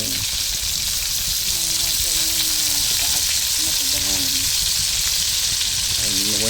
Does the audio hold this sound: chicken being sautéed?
yes